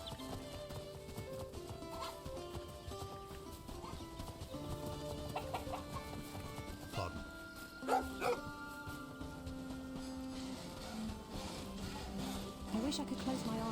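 A dog barks in a video game while horse hooves clip-clop and an occasional whinny rises over a steady bed of background music and ambience, with the barks fairly faint.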